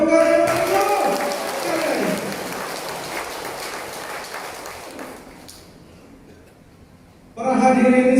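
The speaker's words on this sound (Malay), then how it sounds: "Beri tepuk tangan yang meriah." Audience applause at a Malaysian political gathering in Ranau, a dense, fairly loud round of many hands clapping that follows a voice and slowly fades away, before loud amplified speech resumes.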